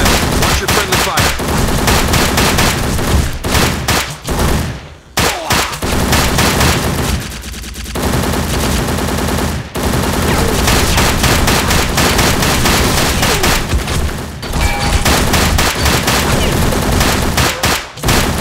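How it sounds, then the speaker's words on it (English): Heavy automatic gunfire rages down a hallway in the video game Secret Service: Ultimate Sacrifice, with dense, continuous bursts and a few brief pauses, loud and close, and voices occasionally cutting through. "We are pinned down by heavy enemy fire in the hallway."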